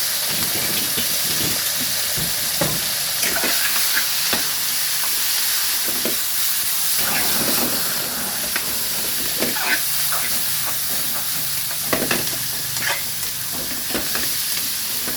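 Leftover rice frying in a pan with dinuguan, browning over the heat, sizzles in a steady hiss while a spatula repeatedly scrapes and taps the pan, with no talking.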